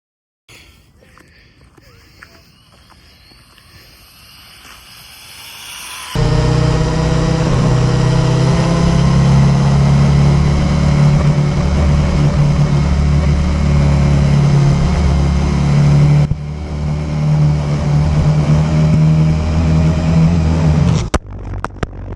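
An Arrma Typhon Grom BLX brushless RC car on Onyx batteries makes a speed run, first faint, then a loud sustained high-pitched whine for about fifteen seconds before cutting off abruptly.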